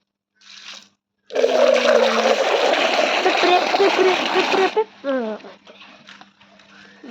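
Water runs steadily from a pipe into a container for about three seconds, a loud continuous gush that stops abruptly, followed by a voice speaking briefly.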